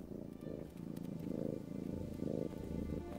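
A close, steady cat purr rumbles in slow rhythmic cycles of inhale and exhale, low and continuous with no other sounds.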